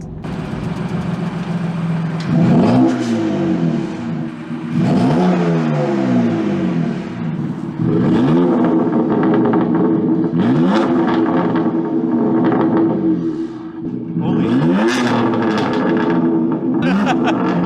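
A BMW M2 Competition fitted with CTS downpipes revs up hard again and again, each rise and fall of the loud, raspy exhaust note close and dominant, settling briefly between pulls.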